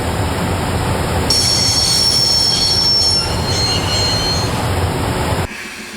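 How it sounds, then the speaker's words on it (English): A train grinds to a halt under its emergency brake in the video game Broken Sword, with loud, sustained wheel squealing over heavy rumbling that cuts off abruptly near the end. "We're pulling the emergency brake."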